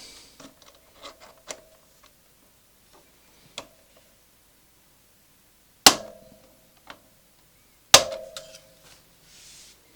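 A hammer taps a long pointy tool through a brake pad pin hole on a Yamaha Tenere, a few light metallic ticks followed by two sharp, loud ringing strikes spaced apart.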